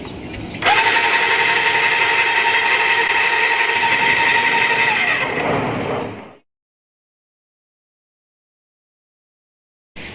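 A Graco Nova 390 airless paint sprayer starts up and runs with a loud, steady mechanical whine and hum for about six seconds, then cuts off abruptly into silence, with a brief burst returning at the very end.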